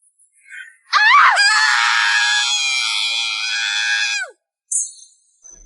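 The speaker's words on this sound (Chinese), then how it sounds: "有女人在尖叫" A woman lets out a loud, sustained, piercing scream lasting about three seconds in an audio drama, rising sharply at the start and cutting off abruptly, followed by a brief faint trailing cry.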